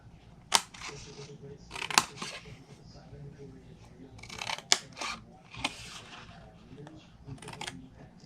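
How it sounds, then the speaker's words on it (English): Scissors cut paper for a small fold-over box, giving a few crisp snips spaced irregularly between softer rustling of the paper, close and fairly clear. "we're just going to cut the rectangle straight"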